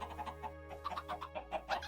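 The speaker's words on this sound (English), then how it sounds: "Chickens were clipping through." Chickens cluck in the video game Minecraft, with a run of short, soft clucks repeating irregularly over a steady low game hum, fairly quiet and with no talking.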